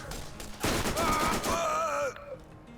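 In the video game Borderlands, a dense burst of rapid gunfire crackles for over a second. A character's groaning, wailing voice is heard over it before it fades.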